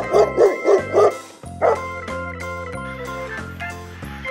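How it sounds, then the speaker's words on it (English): A dog barks four times in quick succession, then once more, over a backdrop of bouncy toy-like electronic music. "Dog."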